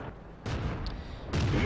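Tank cannon shots trade in World of Tanks, two heavy booming blasts with broad rumbling tails, the second louder, over a low continuous battlefield bed with no talk.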